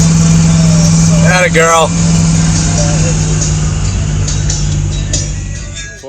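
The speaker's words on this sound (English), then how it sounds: "I finally was able to get her to do some burnouts" A clapped-out Chevrolet Camaro with a one-leg rear end and off timing idles loudly and steadily at close range during burnouts, its low engine drone filling the clip while someone speaks briefly over it.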